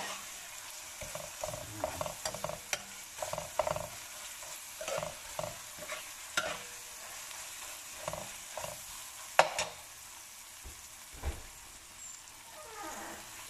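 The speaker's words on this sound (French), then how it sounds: "Alors là, je vais mettre l'ail et le gingembre." Garlic and ginger frying and stirred in a pan for a spicy vegetable achard, a soft steady sizzle under frequent scraping and clattering from a utensil, close by, with no talking.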